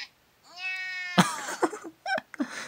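A drawn-out, pitched cat meow is voiced by a cartoon character imitating a cat, in anime-style game audio. Short spoken bits and sharp clicks follow it.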